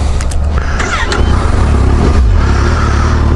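A motorcycle rides along a road on a Sunday outing, its engine a steady loud drone with low rumble and wind rush filling the whole stretch, no break in the sound.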